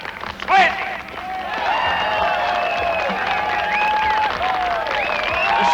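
A film crowd applauds the new champion of a tag assassination game in a 1982 thriller. After a brief loud burst, a dense, sustained roar of clapping mixes with cheering and shouted voices throughout.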